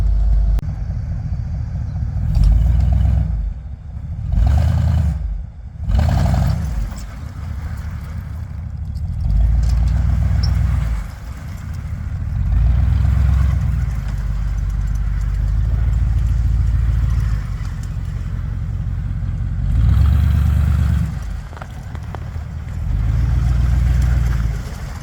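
A 1959 Bombardier narrow-gauge tracked machine runs on a tour out into a field, its engine a steady mid-pitched drone with clattering and several brief revving swells over about twenty-five seconds, no talking.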